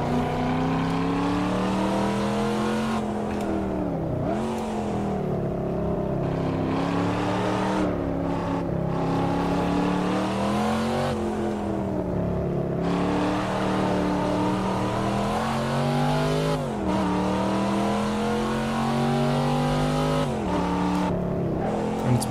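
A Corvette C7 Stingray V8 in the Assetto Corsa racing game, heard from outside the car, revving and accelerating through repeated gear changes with pitch rising and dropping, loud and steady throughout with no talking.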